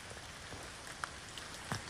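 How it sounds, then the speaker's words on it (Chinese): Heavy rainwater pours steadily down the stairs of a rural mountain primary school during a typhoon downpour, a continuous hissing wash with a few brief splashes, no voices. "复兴乡的高义国小楼梯更是直接就变成了瀑布一样"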